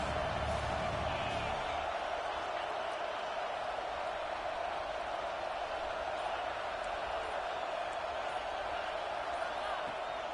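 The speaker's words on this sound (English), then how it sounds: "We're down in this crowd is bringing down the house." In a college football video game rivalry matchup, the stadium crowd roars as a steady, dense wall of noise, holding at an even level with only faint thumps poking through.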